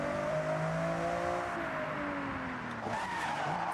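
Cars racing in Forza Horizon 6 in a Japan setting, engines droning steadily with rising and falling pitch while tyres skid and squeal continuously, loud and close with no talking.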